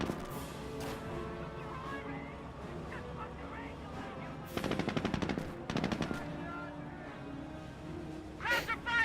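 Machine-gun bursts crackle through a Company of Heroes battle, two tight rapid volleys around the middle and another near the end, heard over steady game ambience with a voice speaking.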